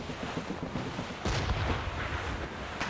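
Ship cannons firing volleys in a naval battle in Assassin's Creed Rogue: heavy booms roll in on a continuous roaring wash of sea and battle noise, swelling into a louder barrage partway through.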